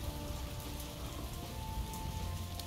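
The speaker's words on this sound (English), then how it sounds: "It's going to rain right through the building anyway" Rain falls in the castle-building video game Castle Flipper as a steady, hissing downpour with scattered droplet patter, underlaid by a faint constant electronic hum.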